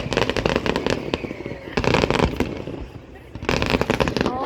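Fireworks exploding in crackling bursts, loud and close, with dense volleys of pops and bangs. The first two clusters run together, a short lull follows, then a third burst. Voices can be heard.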